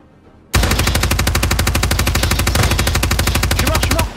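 Rapid automatic gunfire in the video game Rainbow Six Siege, a loud, sustained burst of evenly spaced shots lasting about three and a half seconds, starting abruptly after a quiet moment.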